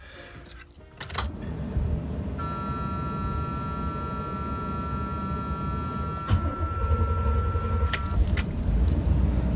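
Keys jangling near an open vehicle on a job site, a burst of metallic clinks up close at the start, then a steady tonal beep and engine hum beneath.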